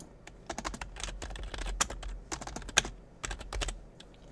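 Code is typed on a computer keyboard in quick, irregular bursts of soft key clicks with a few sharper taps, close and quiet, no voices.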